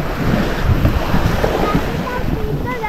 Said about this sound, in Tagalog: nandito tayo sa tabi ng dagat